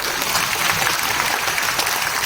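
An audience at a network marketing talk applauds in a continuous, loud wash of many hands clapping, steady throughout with no voices standing out.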